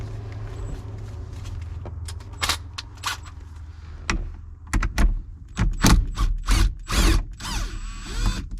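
A socket wrench works two 10mm bolts loose on a 1967 Porsche 912 during speedometer cable installation, giving sharp metallic ratcheting clicks in quick bursts, sparse at first then more frequent, close and without talk.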